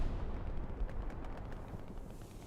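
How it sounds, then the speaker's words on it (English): A strafing run roars through the video game Hell Let Loose as a dense, continuous rumble of heavy gunfire and blasts. It stays loud and low-pitched throughout, with no talk over it. "Strafing run? Strafing run to the north."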